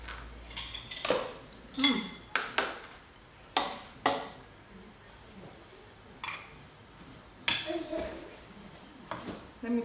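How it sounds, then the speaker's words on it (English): Cameroonian jollof rice being dished out onto a plate, a series of sharp clinks and scrapes of a spoon against dishes and pot, irregular and close, with quiet gaps between strikes. "I'm going to dish it out and show you how it looks like."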